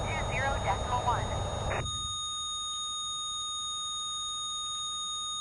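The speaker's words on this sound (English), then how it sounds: "I don't know why that alarm's still going off." An alarm going off in a flight-simulator video game: a high, steady electronic tone with faint repeating beeps that carries on alone once a burst of radio chatter ends.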